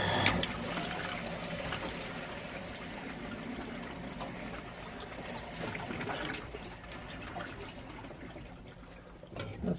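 Water leaks and trickles steadily from pipework at a water filtration plant, a continuous soft splashing and dribbling close by with faint mechanical hum, fading slightly near the end.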